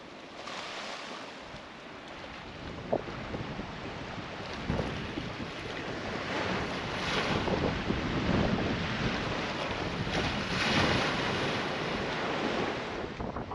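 Sea waves wash onto an off-season village beach along the waterfront in Faros, Ikaria, with wind buffeting the microphone, a steady broad rush with occasional swells and gusts, no voices.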